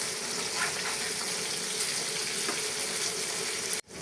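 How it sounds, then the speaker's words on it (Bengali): A fish fries in hot oil after being flipped, giving a steady, dense sizzle that holds evenly at close range before cutting off abruptly near the end. "এই পাশটাকেও আমি 2 মিনিট ভেজে নিব।"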